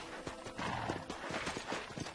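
Hooves clip-clop in a quick, steady rhythm in the video game Red Dead Redemption, with a horse's whinny rising over the hoofbeats, fairly close and clear.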